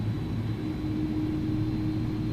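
Engines of an iniBuilds A300 freighter in X-Plane 11 throttling up to takeoff power, a steady, loud, low jet rumble with a constant tonal hum throughout.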